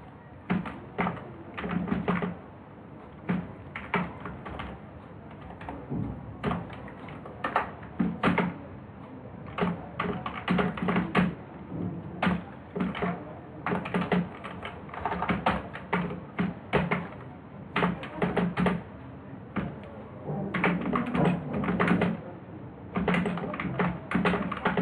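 Code being typed on a computer keyboard during a programming lesson, irregular bursts of close, crisp key clicks separated by short pauses over a quiet room background.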